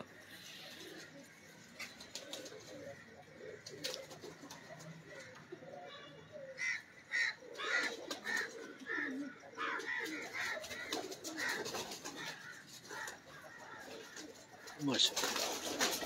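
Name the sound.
pigeons cooing and flapping wings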